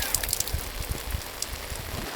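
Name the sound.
rainwater falling, rainwater collection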